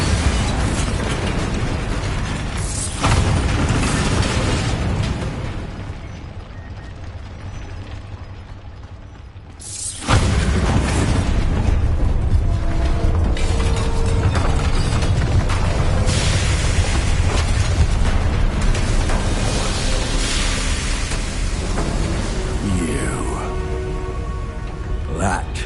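Bombarda spell explosions in Hogwarts Legacy: two sharp, loud bursts, one near the start and a bigger one partway through, each swelling into sustained rumbling debris over a dense game soundtrack with mechanical clanking.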